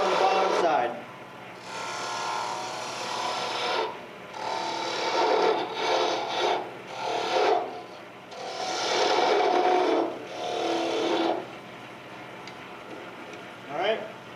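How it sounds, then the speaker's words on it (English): Small spindle gouge cutting the end of a spinning wooden cup on a wood lathe, raspy scraping bursts of a few seconds each with short gaps, close and moderately loud. "I'm going to touch up the end of this with the smaller spindle gouge, make it a little bit shorter on the bottom side"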